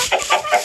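Short burst of chicken clucking in Minecraft, three quick rising clucks in a row, close and clear with a slightly synthetic, game-like tone.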